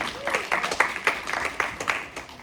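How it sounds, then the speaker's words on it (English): A business meeting audience gives a round of applause for a presenter, moderately loud, crisp claps with distinct individual hits, steady across the short burst. "Can we give Mr. Josh Hall another round of applause?"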